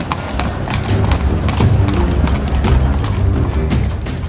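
Horse-drawn carts roll over a stony road at night, with steady clip-clop hoofbeats and clattering wheels, loud and close and continuing throughout.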